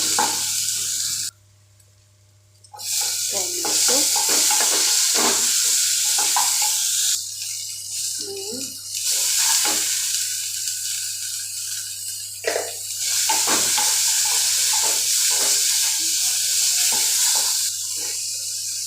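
Onions fry in a pan with a loud, close sizzle and rough stirring scrapes, broken by a brief quiet gap and a few dips in level as the cooking goes on.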